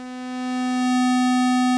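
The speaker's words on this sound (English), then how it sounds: "pressing softly, I hear the sawtooth wave," A Haken Continuum synthesizer holds a single steady sawtooth-wave note, pressed softly, buzzy and rich in overtones, swelling slightly at the start and then sustaining evenly on its own.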